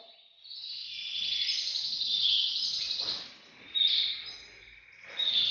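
Breeding birds kept in an aviary chirp and trill in high, thin bursts that swell and fade, with a couple of sharper calls near the end, heard at moderate volume without speech.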